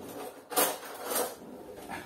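Kitchen cutlery clatters as a knife is fetched, with two short metallic rattling bursts close by and a fainter rustle after, no voices.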